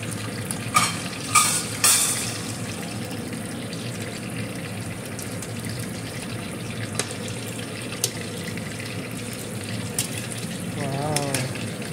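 Squash going into a pot of ginataan, with scraping stirs, clanks of a utensil, and a soft simmering bubble underneath, moderately close; a voice speaks briefly.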